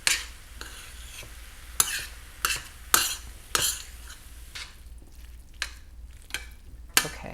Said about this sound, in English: And let that simmer for just a few minutes. Let it absorb that cooking sherry.